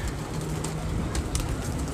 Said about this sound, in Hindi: ये देखें बड़ा आउट क्लास व्यू, कबूतर नीचे आ रहे हैं।